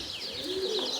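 A roller pigeon coos softly and close, a short low rolling call under a busy chatter of other birds in the background.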